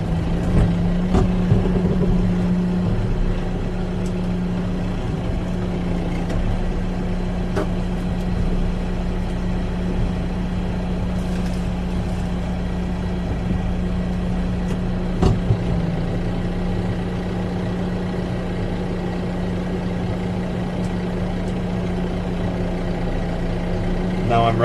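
A tractor box blading a tree stump gives a steady, close, low engine drone that holds throughout, with a few scattered knocks and clunks on top.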